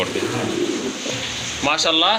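A pair of blue-colored pigeons coo at a pigeon seller's place, soft repeated low calls running through the clip with voices talking over them near the end.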